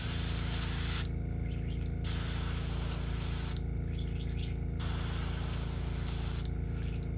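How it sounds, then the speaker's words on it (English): Airbrush spraying while being cleaned out, a loud steady hiss broken into roughly three long bursts with short pauses between them, the compressor hum continuing underneath throughout. "clean this out of my airbrush"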